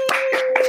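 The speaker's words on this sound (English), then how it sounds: "raise your glasses and your grog and applaud to the cardinal points of the compass for Mr. Paul Duncan McGarrity." Audience clapping in a theatrical shipboard-themed show, three short bursts of close handclaps under a steady tone, brief and moderately loud.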